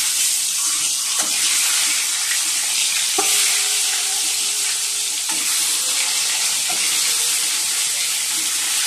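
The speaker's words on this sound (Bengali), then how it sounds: "চলো এবার ডিমগুলো ভেজে নেবো" Eggs fry in hot oil with turmeric in a wok, giving a constant close sizzle broken by a few light clinks and scrapes of stirring.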